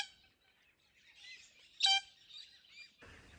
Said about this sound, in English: The bird noises that you would have been hearing in the background have been these pink galahs.